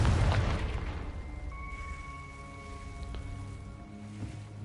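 An explosion cast by the Confringo spell in the Hogwarts Legacy video game, one deep boom right at the start that fades into a lingering low rumble, followed by soft sustained magical tones and no talking.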